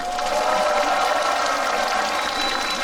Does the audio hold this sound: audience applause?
yes